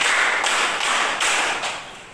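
A group of students in a classroom concentration exercise claps together in a counted rhythm. The clapping is dense and continuous, with brief rhythmic dips.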